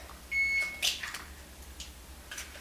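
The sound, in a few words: oven beeping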